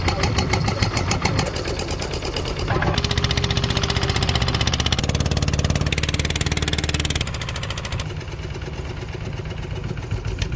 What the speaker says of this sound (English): we've got the Toyota Yaris engine. It's like a car engine on it and a stick, and off they go